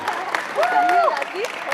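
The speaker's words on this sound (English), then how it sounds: "Big round of applause for all of our contestants so far." An audience at a convention cosplay contest applauds in a steady, dense round of clapping, with a voice speaking over it.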